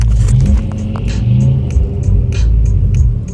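A Dodge truck engine rumbles with a deep, steady low throb nearby, slightly rising and falling, with faint clicks and hiss over it.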